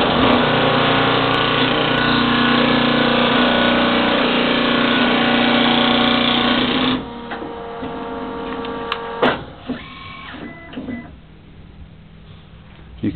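A Vacuumatic Vicount 3 paper counting machine runs loud and steady, counting sheets in batches of 50 and firing tabs in; after about seven seconds it drops to quieter mechanical clicks and shuffles.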